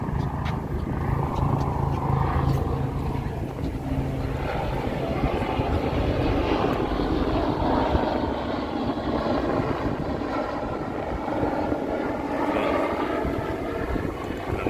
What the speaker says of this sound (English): it looks like a possibility of Trump's helicopter